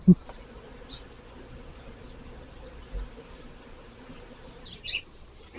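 Faint, steady buzzing of bees flying around a hive hums low in the background, with a couple of soft clicks and a brief higher chirp near the end.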